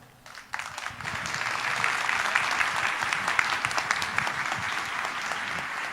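Applause from an audience at a talk on the future of work swells in after a brief quiet start and carries on as a dense, steady patter of many hands until the end.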